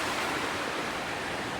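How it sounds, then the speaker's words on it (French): River flowing far below at night, a dense, steady broadband rush of water with no breaks or other sounds. "On voit la rivière là-bas en contrebas."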